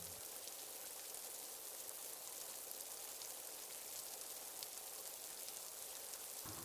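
Steady rain falls in a dense, even hiss that holds unchanged from start to finish, with no voices and no separate drops standing out.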